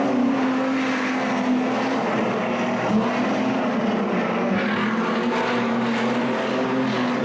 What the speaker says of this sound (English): The car doesn't sound all that flash